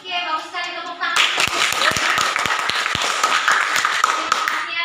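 Classroom group clapping at the end of a school guidance lesson, a burst of close, uneven hand claps with sharp individual slaps, preceded by a brief voice.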